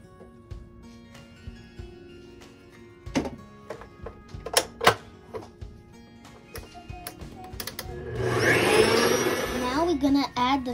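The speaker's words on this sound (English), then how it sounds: "We're going to put the butter in the mixer." Electric mixer creaming room-temperature butter with sugar for a sesame cake, starting up near the end as a loud steady whir after a stretch of quiet clicks and kitchen knocks.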